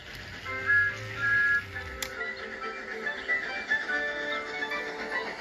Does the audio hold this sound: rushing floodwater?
no